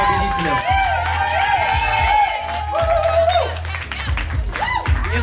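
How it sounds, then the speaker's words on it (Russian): Spectators at a popping dance battle final cheer, whoop and clap for the finalists, a lively mix of shouts and applause over pulsing music, with a voice talking loudly above it. "давайте воздадим почести, хвалу и овации нашим финалистам и будущим победителям"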